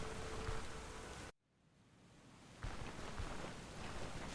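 Steady rain in the video game Stoneshard hisses, cuts out abruptly for about a second, then fades back in and resumes at a similar level, with no talking.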